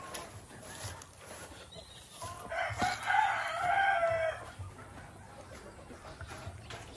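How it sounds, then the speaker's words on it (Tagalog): A rooster crows once, loud and drawn out, amid background clucking of chickens and faint farmyard noise. "Ito yung mga manok."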